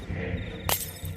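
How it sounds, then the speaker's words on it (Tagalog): A glass bottle shatters in one sharp, bright crash, brief and close, standing out over a low steady background hum. "Nabasag ito sa balat ni Aling Emily"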